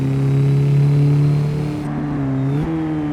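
Mazdaspeed3 hot hatch engine accelerates hard in a three-lap race against an ST and a GTI, a loud close-up drone that climbs in pitch and then shifts down. No one speaks.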